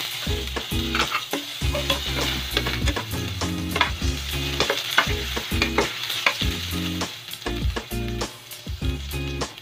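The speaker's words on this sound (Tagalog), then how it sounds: "Ngayon po isusunod na po natin yung sibuyas." Onion sautéing with garlic in a pan for nilagang baboy, loud close sizzling with a rhythmic series of spatula scrapes and clacks against the pan, no talking.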